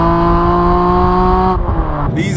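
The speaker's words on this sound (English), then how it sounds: "These M3 engines still sound absolutely epic, don't they?" BMW Z4 M Coupe with its naturally aspirated M3 engine, loud steady idle-to-rev drone with strong harmonics, dropping briefly before a rising rev near the end; close and sustained.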